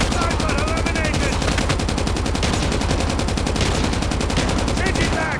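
Sustained rapid machine gun fire in the mobile shooter COD Mobile, loud and continuous with dense, evenly spaced shots, layered with other game effects.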